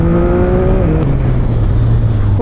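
A 2025 CFMoto 675 SR-R sport motorcycle brakes hard on track with ABS engaging, its loud close engine note falling in pitch as the bike slows and then settling into a lower drone.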